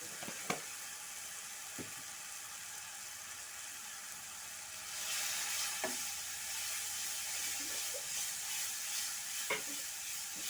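A ground cumin and coriander paste fries in a pan for a prawn curry, a soft sizzle that swells louder about halfway through, with a few scattered taps and scrapes of stirring and no talking.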